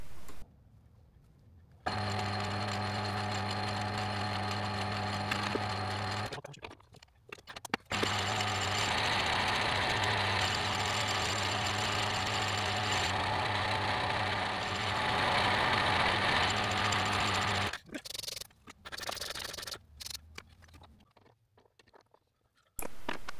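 A metal lathe turns 4140 steel that is not well annealed, cut with PCD inserts. A steady, loud machine drone with a strong tonal hum runs through most of the clip, briefly stopping and restarting partway through before ending.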